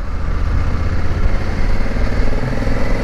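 An Africa Twin motorcycle engine idles close by with a dense, steady rumble and a slight clatter. The sound holds at an even level the whole time, with no talk.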